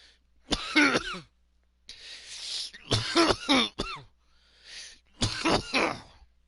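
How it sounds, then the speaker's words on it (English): Someone nearby coughs and clears their throat in several separate harsh bursts, each rough and raspy, with short silences between them. "Get that coughing in."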